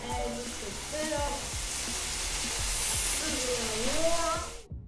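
Onions for a chicken quesadilla fry in a hot pan with a loud, steady sizzle and hiss, close by, while someone talks over it.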